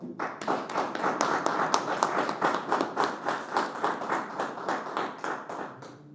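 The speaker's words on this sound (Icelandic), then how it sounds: "gefa þessum heiðursmönnum gott klapp" An audience at the Icelandic Sportsperson of the Year ceremony claps for honoured guests, a fairly sparse, rhythmic patter of hands that swells and pulses steadily, moderately distant.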